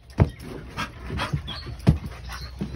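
Dogs play rough at close range, with repeated heavy panting, snuffling and short growly bursts in an uneven rhythm and no talk over them.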